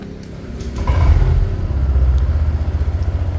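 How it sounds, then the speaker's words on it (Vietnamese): A Honda SH scooter engine is started with its emergency unlock procedure: a short burst of cranking catches at about one second, then the motor settles into a steady, close, pulsing idle rumble with no talk. "bây giờ mình sẽ nổ máy"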